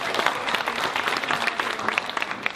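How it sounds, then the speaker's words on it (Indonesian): Audience at a televised debate breaks into loud, sustained applause, with dense clapping that stays steady throughout and no voices heard over it. "kita berikan tepuk tangan yang meriah untuk tempat ini"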